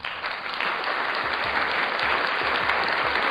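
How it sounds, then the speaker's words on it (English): A crowd claps in a brief, dense burst of applause, steady and loud from start to finish. "the crowd laughs and then cheers, and then there's a brief applause there."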